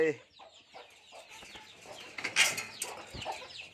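Chickens cluck in short, scattered bursts close by, with a louder squawk partway through and some rustling in the background.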